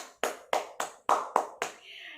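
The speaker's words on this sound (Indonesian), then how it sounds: "Tepuk tangan semuanya dulu." A classroom of students clapping hands during a science lesson, six distinct claps in a quick, fairly even rhythm, close and crisp, ending with a brief voice afterward.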